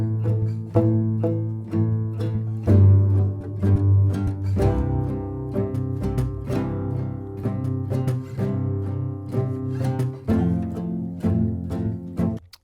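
Skyrim-style tavern music composed with Hearth & Hollow, acoustic-sounding folk instruments playing a lively melody over plucked and strummed accompaniment and a low drone, steady and full throughout.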